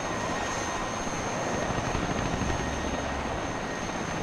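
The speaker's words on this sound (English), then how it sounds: "Mi-8 helicopter there, firing already at some of our infantry coming in here" A Mi-8 helicopter in the video game WARNO gives a dense, steady rotor and engine roar that holds at the same level throughout, with no distinct gunfire bursts standing out.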